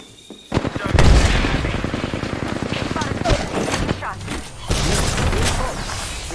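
Gunfire in the Apex Legends video game during a firefight, with several quick bursts of shots mixed with game effects, while a voice talks over the action throughout.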